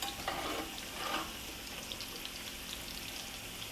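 Potatoes frying in a pan, browning on one side, giving a soft, steady sizzling hiss that stays faint and even throughout, with no voices.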